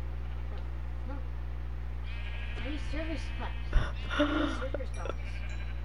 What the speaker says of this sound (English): It looks like you have sheep inside